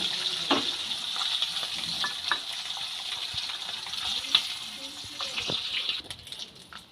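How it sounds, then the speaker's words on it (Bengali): Prawns fry in hot oil in a pan with a steady hissing sizzle and occasional stirring clicks. The sizzle drops off near the end as they are lifted out. "চিংড়ি মাছগুলো ভেজে নিয়েছি এবার তুলে নেব"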